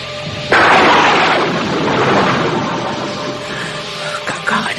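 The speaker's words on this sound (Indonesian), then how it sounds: "Kakang Adijaya, tiba-tiba ada suara petir" Sudden loud rumbling boom of thunder cracking in at once and rolling on steadily, with a few faint sharper pops near the end, set amid a dramatic tale of a sorcery battle.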